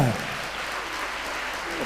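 Audience applause at a student success celebration for an IAS coaching academy, steady broadband clapping filling the short stretch at an even level with a brief voice fragment at the start.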